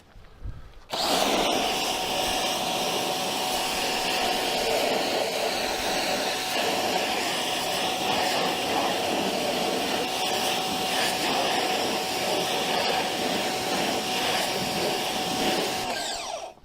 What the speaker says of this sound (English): I'm going to start with a rinse on this wheel